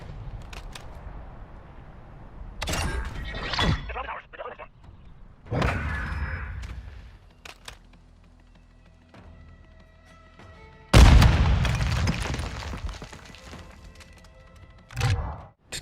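Tube launcher grenades from a Modern Warfare II match land and burst in a museum map, with a sharp loud blast followed by decaying rumble, after scattered smaller impacts and clicks, with a voice talking over the game sounds.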